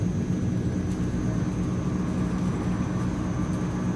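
Steady loud drone of a Transall C160 twin-turboprop cargo plane lifting off in Microsoft Flight Simulator, a constant engine roar with a faint whining tone and no change in level.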